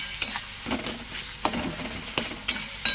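Young jackfruit curry made with yogurt cooking in a pan: a soft, steady sizzle with several sharp stirring scrapes at irregular intervals, fairly quiet and close.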